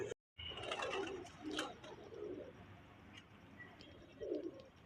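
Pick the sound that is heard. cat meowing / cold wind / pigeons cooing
pigeons cooing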